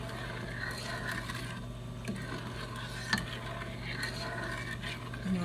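A spoon stirs pecan praline mixture in a pot on the stove, with steady soft scraping and faint clinks over a constant low hum.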